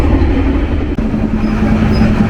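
Interior of a 1982-built KA Gumarang business-class passenger carriage in motion, a loud, steady rumble with a low droning hum and a brief jolt partway through, no voices.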